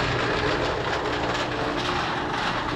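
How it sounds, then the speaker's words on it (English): A loud, steady rumbling roar of rock tumblers churning in PVC barrels inside a shed, continuous and close, with no talking. "the real noise you hear is from the PVC barrels"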